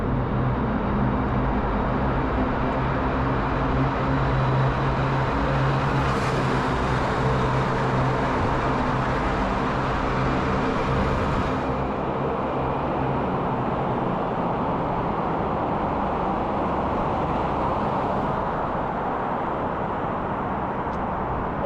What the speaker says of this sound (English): The sound of those trucks are crazy and scary.